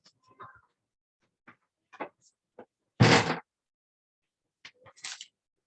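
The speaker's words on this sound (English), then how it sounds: "Close the door and come back." One firm thud of a door shutting stands out among scattered faint knocks and small bumps in a quiet room.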